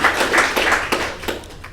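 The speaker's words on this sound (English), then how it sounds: "Another applause," Brief applause at a lean startup meetup, a short burst of close hand clapping that fades quickly.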